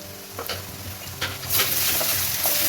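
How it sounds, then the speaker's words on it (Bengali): Garlic paste going into chopped onions frying in a pan for a pomfret fish dish; a steady sizzle that swells louder and brighter halfway through, with a few light stirring ticks. "পেঁয়াজটা দেখুন ভাজা ভাজা হয়ে গেছে, এবার আমি রসুন বাটাটা দিয়ে দিচ্ছি।"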